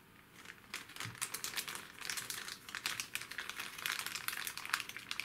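A plastic bag of M2.5 screws is opened, giving a close, continuous crinkling and rustling of plastic with small clicks throughout, without speech.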